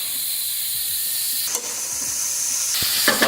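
Ukrainian zazharka hits about 2-3 tablespoons of hot sunflower oil with a steady, loud hiss and crackle, the sizzling continuous and close with brief bursts of spatter.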